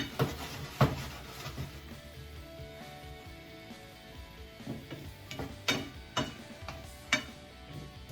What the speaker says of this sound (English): I'm going to add my tofu because I want my tofu to be cooking along with my vegetables